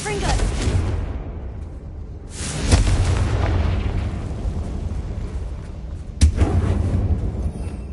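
Fiery Confringo spell blasts in the Hogwarts Legacy video game, set in a tomb-like mine: deep booming explosions with sharp bursts at intervals, then rumbling, crackling decay, loud and close.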